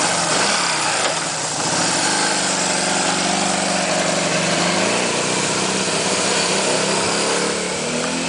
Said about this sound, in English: here, it's going to idle now. How's that for an idle?